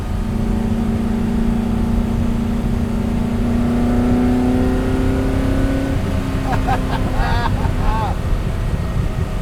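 A Superformance Ford GT40 MKII engine drones loud and steady, holding a high note that climbs slowly, then rises in pitch near the end with a short burst of revving. A voice is briefly heard over it.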